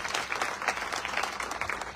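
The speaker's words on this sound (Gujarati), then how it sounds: "ફરીથી જોરદાર તાળી હતી" Applause from the audience at a political rally in Gondal, a dense burst of many hands clapping at once, held steady and moderately loud for a couple of seconds, with no other sounds rising above it.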